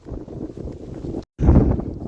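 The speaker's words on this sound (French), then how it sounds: "Parce qu'on est face au vent et donc si je parle face au vent" Headwind buffets the microphone during a walk along straight roads through fields, making a low rumbling gust noise that drops out briefly and then returns stronger.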